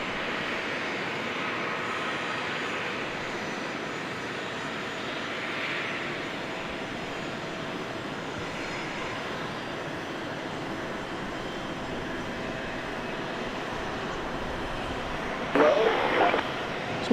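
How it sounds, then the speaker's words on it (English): Business jets at Dallas Love Field taxi toward the north end of the runway, a continuous distant engine rumble and whine holding steady for many seconds, with a brief louder rattle near the end. "plane that we saw ready for takeoff over here is now going to join these other biz jets headed to the north end of the runway"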